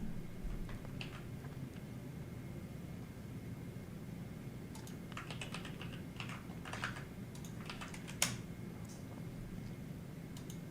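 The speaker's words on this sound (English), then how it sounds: "I just got to witness Ben Shapiro literally typing Shapiro in echoes." Quiet computer keyboard typing in short, uneven bursts of clicks, with a faint fan or room hum steady underneath.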